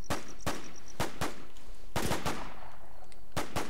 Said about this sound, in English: I don't know what I'm shooting at.